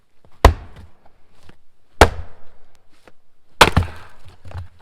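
A splitting maul strikes a large piece of wood three times at roughly even intervals. Each close, loud, sharp crack carries a brief splintering rattle, with quiet scuffs and small knocks in between.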